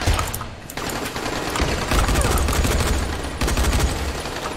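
Dense bursts of rapid gunfire from a Dying Light co-op match crackle loudly and almost continuously, with brief gaps between volleys.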